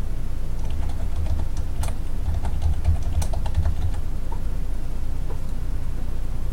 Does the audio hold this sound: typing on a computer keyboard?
yes